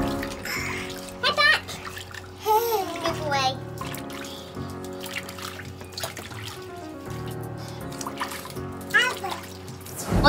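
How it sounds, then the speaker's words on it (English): Water poured from a large mug trickles over a baby's head at bath time, splashing softly in the tub alongside a voice and steady background music. "get a large mug or a cup and fill it with water and brush it back over the head"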